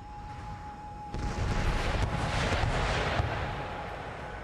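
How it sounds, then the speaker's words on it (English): Artillery fire in Empire Total War, a low rumbling roar of massed guns that starts abruptly after a quiet pause and keeps rolling at moderate loudness for several seconds. "So all my artillery is going to be focusing on the chief's bodyguard or the mounted tribal gunners."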